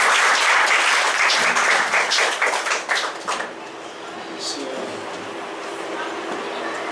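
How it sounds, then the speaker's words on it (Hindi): Applause from a church congregation after a worship song, a dense burst of clapping for about three seconds that quickly thins and fades into the room's ambience. "परमेश्वर को तालियां बजा सकते हैं।"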